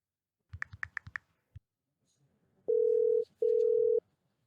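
A telephone dial tone sounds while a call is being placed, two steady held tones with a short gap between them. They come after a brief burst of tapping or keypresses and are loud and clear with no talk over them.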